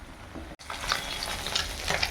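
Small chuno and khoira fish frying in oil in a pan give a steady, close sizzle with crackling pops, briefly cut by a short silent gap before the hissing returns a little louder.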